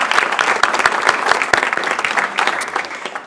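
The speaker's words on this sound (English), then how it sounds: "Another round of applause" Audience at a school district board meeting giving a round of applause, a full, even wash of clapping with a few sharp close claps, tapering slightly at the end.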